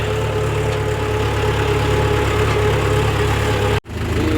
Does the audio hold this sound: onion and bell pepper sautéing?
no